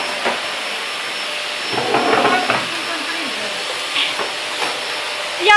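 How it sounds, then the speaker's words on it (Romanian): A household vacuum cleaner runs steadily with a loud whining hiss, punctuated by bumps and brief knocks, while a voice speaks briefly over it. "Puteți opri aspiratorul?"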